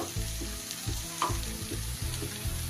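Spiced cabbage filling for a savoury veg pitha sizzles steadily in a pan, with a spoon scraping and stirring in a rough repeating rhythm, close and fairly loud with no talk.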